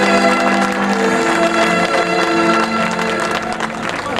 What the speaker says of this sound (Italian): L'applauso del pubblico.